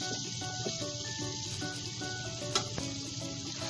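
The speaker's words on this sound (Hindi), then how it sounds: "अभी आलू डालने का, 2 कप जैसा आलू" Small chopped potatoes, about two cups, sizzle steadily as they fry in a pan for bhuna khichuri, a dense continuous hiss with faint stirring clicks and no talking.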